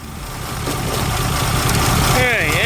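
A VW Super Beetle Volksrod project car's engine runs at a steady idle close by, a low rumbling drone that holds through the whole stretch, with a brief squealing sweep rising near the end.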